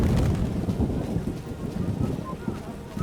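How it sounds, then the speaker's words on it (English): Heavy rain pours down in Witcher 1, a dense, continuous roar of a downpour with low rumbling and gusty wind, loud and steady throughout. "What a downpour!"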